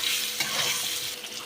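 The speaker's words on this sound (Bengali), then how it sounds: "পেঁয়াজটাকে বন্ধুরা আমি এবার একটু লাল লাল করে ভেজে নেব" A small quantity of chopped onion sizzles steadily in hot oil while being stirred, a close, continuous frying hiss for a cauliflower curry cooked with katla fish head.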